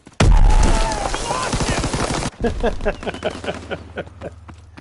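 Gunfire in Call of Duty WWII multiplayer, a loud close burst of automatic shots followed by a rapid rhythmic string of cracking rounds that gradually thins out.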